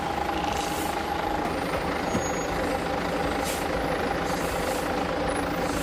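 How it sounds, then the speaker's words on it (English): A heavy log truck grinds slowly along a rugged, muddy road with a steady, loud engine drone and a faint intermittent high tone over the rumble. "the truck moves slowly, carrying heavy logs, facing potential risks"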